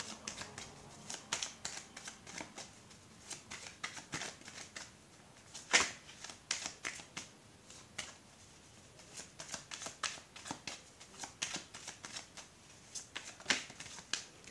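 A deck of tarot-style cards being shuffled for a reading, producing soft, close riffling and slapping bursts in an irregular rhythm, quiet and without talking.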